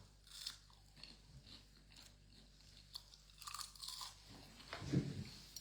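Mouthfuls of meat being chewed close up, with quiet, irregular crunchy bites and wet mastication. A louder bite lands near the end, and no one talks.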